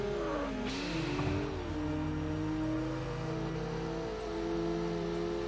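Engines of race cars in the Wangan Midnight driving game, with gliding whines rising and falling as gears shift while a rival car closes in, a continuous loud roar under steady road noise.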